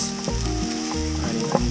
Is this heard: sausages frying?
yes